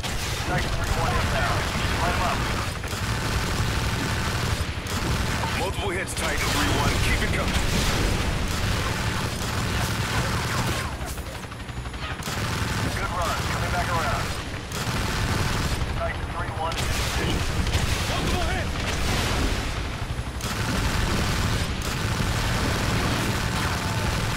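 Explosions and heavy gunfire from a bombing run in the shooter Call of Duty: Ghosts, with dense, continuous rumbling blasts and shots in a loud battle mix and voices calling out over the din.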